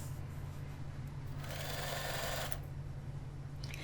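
A sewing machine zigzag-stitching clips onto hair extensions gives a steady, close mechanical whir with a low motor hum, its stitching rattle swelling briefly in the middle of the stretch.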